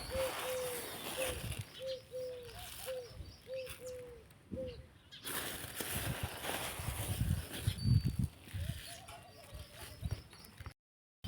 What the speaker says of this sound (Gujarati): પક્ષીઓ સણવા આવી ગયા છે.